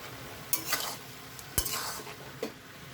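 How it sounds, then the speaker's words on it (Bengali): Shrimp and cauliflower frying in an uncovered pan, stirred with a utensil that scrapes and clinks in a few short bursts over a steady low sizzle. "তো দেখুন আমি নেড়ে চেড়ে দিছি।"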